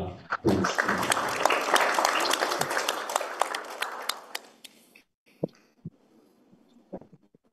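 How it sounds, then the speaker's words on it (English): Audience applause for a speaker at an English-teaching seminar: brisk clapping from a room of people for about four seconds, then fading into a few scattered, isolated claps and taps. "Let's show our appreciation with a round of applause for Ms. Maria."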